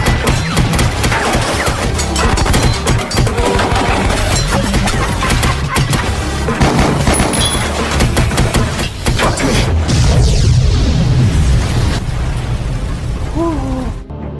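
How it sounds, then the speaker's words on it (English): Submarine deck guns firing during a violent movie fight with mercenaries, a continuous loud barrage of blasts, crashes and debris filling the whole stretch, heavily mixed with score and effects. "Pike and Dylan fight back against the mercenaries, using one of the submarine's deck guns."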